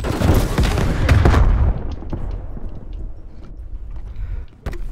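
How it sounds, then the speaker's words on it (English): Grenades go off in Call of Duty: Black Ops Cold War team deathmatch, heavy booming blasts and crackling debris up front that fade into a quieter rumble with scattered game sounds. "Grenades everywhere."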